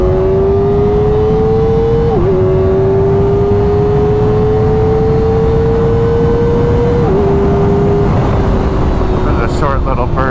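A Kawasaki ZX4RR motorcycle accelerating hard, its high-revving engine whine climbing steadily with two quick, clean quick-shifter upshifts that barely interrupt the rising pitch, loud and close over heavy wind rush.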